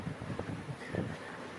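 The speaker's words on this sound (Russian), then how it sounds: "А сегодня уже пурга." Blizzard wind gusts across an outdoor spot near buildings as a steady roaring rush with low buffeting thumps, the kind of close microphone wind noise that swells and ebbs without speech.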